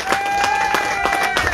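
Applause from a crowd at a cyclo-cross race podium ceremony for the under-15 category winner, steady clapping with a tonal whine running through it, fairly loud and close.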